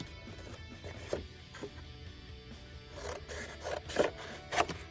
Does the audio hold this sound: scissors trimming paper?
yes